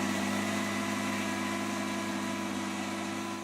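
A Tigercat skidder's diesel engine runs at a steady idle, a continuous low drone with a strong humming tone and faint mechanical rattle, close and unchanging, with no talking.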